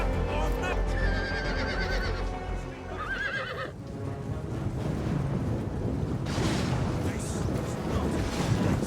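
Cavalry horses neighing and whinnying in a Lord of the Rings Gondor versus Mordor battle game, several loud whinnies over a rumbling battle din with hoof clatter and booms.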